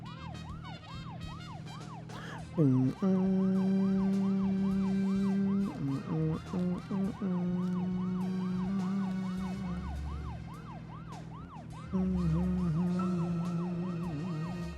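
A police car siren in the video game Deadly Premonition wails in repeated rising and falling sweeps, then switches to a steady two-tone yelp in bursts, loud and close, with low engine hum underneath.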